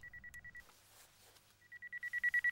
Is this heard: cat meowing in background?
no